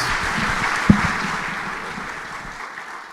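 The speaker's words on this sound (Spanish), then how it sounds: "les pediré un aplauso para los ponentes" Conference audience applauding the panelists of a first panel session, steady clapping with one sharper knock early on, gradually thinning and tapering off toward the end.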